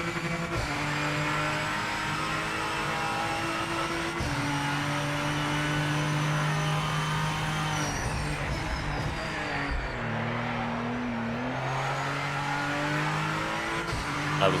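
Toyota Supra race car in the racing game Project Motor Racing, a loud steady engine drone with shifting pitch as it speeds through turns, with faint tire noise, close and continuous and without talk.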